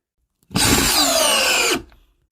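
An Atomic Compact Series power drill drives construction screws at high speed, a loud steady whirring burst lasting just over a second with a grinding wood-bite edge, then cutting off sharply.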